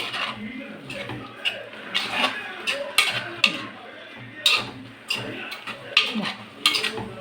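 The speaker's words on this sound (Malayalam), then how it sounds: "ഇനി ഇത് നന്നായിട്ടൊന്ന് ഇളക്കി എടുക്കുന്നുണ്ട്" A spoon stirs nathal fish peera with grated coconut and curry leaves in a pan, giving irregular close scrapes and metallic clinks at a fairly steady rhythm.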